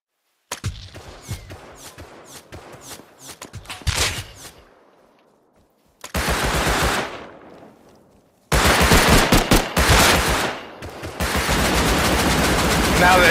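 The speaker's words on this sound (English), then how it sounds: "Now the AK wants to shoot at him, now?" Automatic AK rifle fire in the game Rust comes in several loud, rapid bursts, with short gaps and a longer, denser volley near the end.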